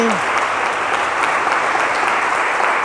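Worshippers in a church give sustained applause at a celebration service, a thick, continuous roar of clapping from a large congregation, loud and even from start to finish after a brief opening voice.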